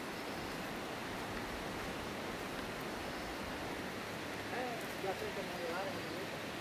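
A clear river flows with a steady, faint hiss and rush that never changes, and a soft voice rises briefly near the end.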